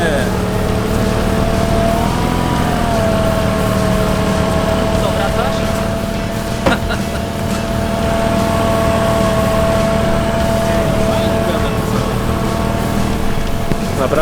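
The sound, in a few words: Polonez truck engine starting and revving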